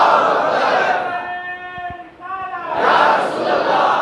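A crowd at an Islamic Shab-e-Barat gathering raises a loud collective shout of religious slogans, swelling at the start, pausing for a single sustained chanted voice in the middle, then surging again in unison.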